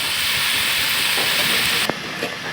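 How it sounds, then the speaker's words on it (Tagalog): A pot of pinakbet vegetable stew boils over a wood fire with a steady, loud hissing bubble, broken near the end by a short clunk. "Ayan, kumukulo na."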